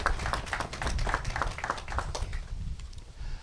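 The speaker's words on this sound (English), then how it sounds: "I'll give them a round of applause." A small crowd at an outdoor historical district plaque unveiling breaks into a round of applause, a dense patter of overlapping claps at moderate distance that thins out toward the end.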